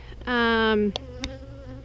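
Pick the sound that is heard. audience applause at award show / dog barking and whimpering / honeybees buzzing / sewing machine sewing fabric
honeybees buzzing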